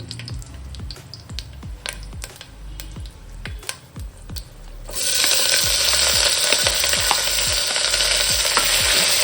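Onions and chillies hit hot oil with whole spices in a pan for Andhra-style paneer pulao. Rhythmic scraping stirs come first, then a loud, sustained sizzle swells and continues to the end, with no talk.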